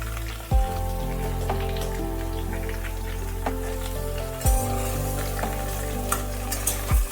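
Ash gourd pieces and potatoes sizzle steadily in hot oil in a pan for a Bengali shukto, a continuous close frying crackle with occasional stirring clatter and a low tonal hum throughout.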